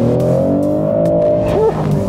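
A Maserati GranTurismo Trofeo in sport mode accelerates, its engine note climbing smoothly in pitch, loud and close from inside for a couple of seconds.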